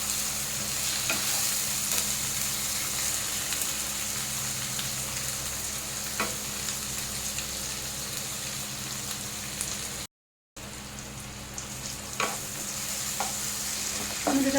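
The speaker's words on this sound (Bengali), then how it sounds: "টমেটোটা দিয়ে ভালো করে একটু কষিয়ে নিতে হবে যাতে টমেটোর কাঁচা গন্ধটা না থাকে" Chopped tomatoes fry in a pan for a Bengali stingray curry, giving a steady, close, even sizzle with occasional stirring scrapes and a momentary dropout partway through, no talking.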